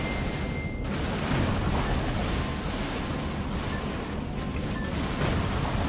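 Missile explosions on a beach in the Metal Wolf Chaos video game blend into a continuous loud rumbling roar, like heavy blasts mixed with surf, with no separate distinct impacts.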